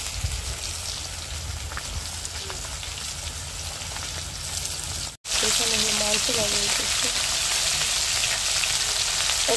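Fish frying in a pan, a steady dense sizzle throughout, briefly cutting out midway and returning louder with some voice-like tones mixed in.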